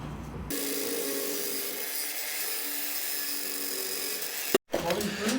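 A saw cuts through cable trunking during a new-build house rewire, a steady rasping that runs for about four seconds, stops abruptly, and is followed by faint handling noise.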